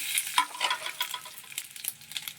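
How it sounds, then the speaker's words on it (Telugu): Chillies, cumin and lentils fry in hot oil for a tempering, giving a close, crackling sizzle with bursts of spattering pops and scraping stirs in an uneven rhythm. "మిర్చి జీలకర్ర ఇవన్నీ వేసేసుకోవాలండి ఇంకా పోపులు పప్పులు వేగిపోయాయి కదా"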